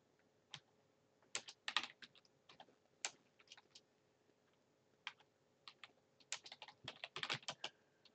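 Typing on a computer keyboard while entering text into CATIA 3D Experience. Short clusters of quiet, close key clicks arrive in irregular bursts, separated by brief pauses, over a faint steady hum.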